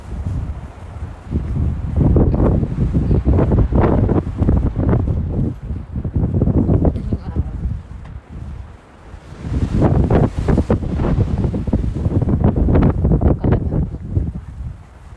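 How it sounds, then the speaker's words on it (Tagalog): Strong wind buffets the microphone in loud, roaring gusts that surge and ease in two long waves, with a brief lull in between. "Ganyan kalakas ang hangin dito."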